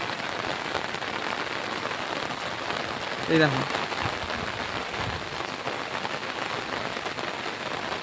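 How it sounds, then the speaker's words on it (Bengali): Continuous heavy rain pours onto a flat rooftop during a flood-causing downpour, a dense steady patter throughout with a brief spoken interjection partway through. "অনবরত বৃষ্টি চলছে আমাদের ছাদে"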